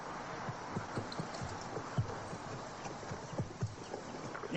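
Horse hooves clip-clop in a steady walking rhythm, soft and somewhat distant over a low background hum.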